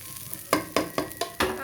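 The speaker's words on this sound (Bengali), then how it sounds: "এরকম করে একটু 2 থেকে 3 মিনিট পেঁয়াজটা চালটা ভাজা করে নেন" Onion and rice frying in a pan for pulao, a spatula stirring in five sharp, evenly spaced scrapes over a soft sizzle, close up with no talking.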